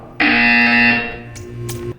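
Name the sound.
buzzer sound in the video game Portal 2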